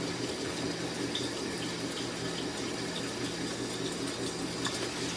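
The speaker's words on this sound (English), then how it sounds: "you can see the water going in the bucket now." Steady water draining from a CPAP hose into a bucket, a continuous trickling splash that runs evenly throughout.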